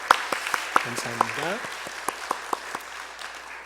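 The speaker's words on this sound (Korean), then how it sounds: "우리 박수로 한번 축하하도록 하겠습니다" A congregation at a Sunday church service claps to congratulate two grand-prize essay winners: steady, moderately loud applause with distinct individual claps standing out, while a voice speaks briefly over it.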